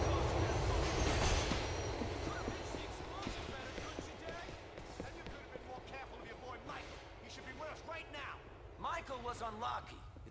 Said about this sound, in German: Hoffentlich kommt mir kein Zug entgegen.